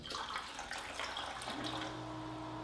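Alkaline water, the 9.5 kind from a Kangen water ionizer, poured steadily into a row of containers, giving a continuous splashing, trickling stream close by with no talking.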